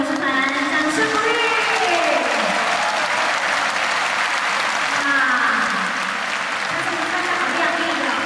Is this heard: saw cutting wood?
no